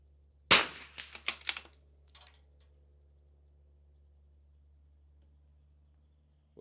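A single sharp rifle shot at a target during an NRL22 rimfire match, followed by a few quick metallic clicks and rattles of handling, then near silence.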